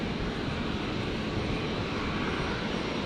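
An Air New Zealand Airbus A321neo taxiing at Brisbane airport, a continuous broad engine roar that holds steady and loud throughout, with no voices.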